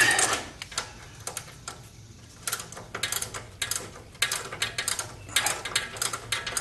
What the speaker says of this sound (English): We'll just see how much easier that makes it to take off the nut.